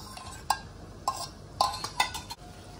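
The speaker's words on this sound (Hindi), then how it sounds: "ये देखिए मतलब जो हमारा ये आटा भुन रहा है" Metal spoon scraping and clinking in a pan as wheat flour roasts in ghee, with a handful of sharp, irregular taps over a low, steady sizzle, close and moderately loud.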